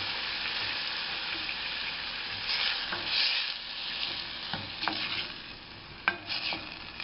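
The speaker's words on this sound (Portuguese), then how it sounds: "Dá uma boa refogada nele" Chopped tomato sizzles in a pan as it is sautéed for a pancake sauce, with a steady hiss broken by scraping stirs and a few sharp clinks of a utensil, close by and with no talking.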